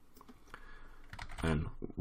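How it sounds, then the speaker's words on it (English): A few soft clicks of computer keyboard arrow keys tap irregularly, close by, amid low room noise and a brief muffled thump near the end. "I can also use the arrow keys on my keyboard so I can align this precisely"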